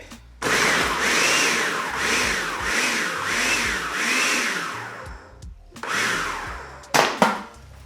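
Blender chopping celery and carrots for egg rolls, several loud pulsing whirring bursts with a short pause, then more grinding bursts.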